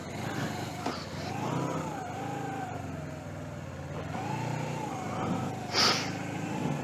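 A Suzuki GS500E motorcycle engine runs on choke, a steady close rumble whose pitch rises and falls with gentle revving and wind noise over it, plus a brief sharp noise near the end.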